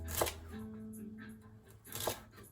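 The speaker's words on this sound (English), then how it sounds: "Now that knife is cutting through that celery" A knife cuts celery into cubes on a board. Two crisp chops sound about two seconds apart, close and quiet, over a low background hum.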